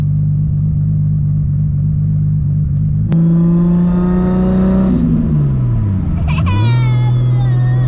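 A 1000+ whp Toyota Supra MKIV idles with a loud deep burble, then blips sharply into a rising rev, drops back, and revs again, with high whistling turbo whine near the end.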